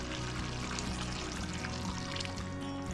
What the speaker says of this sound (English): So let's add 1 more cup of the broth.